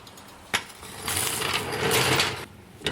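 Mechanical clicking and ratcheting while tightening bolts on a Volvo 850 front strut, a sharp click followed by a longer burst of ratchet strokes and another click at the end, close and without talk.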